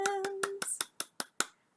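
Sharp hand claps at library story time, about eight crisp claps in a quick steady rhythm, with a sung tone over the first few before the claps ring out alone.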